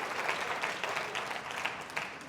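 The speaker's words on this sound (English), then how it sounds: "I think you're applauding parenting." An audience applauds steadily, a dense wash of many hands clapping at once, sustained throughout without any voices standing out.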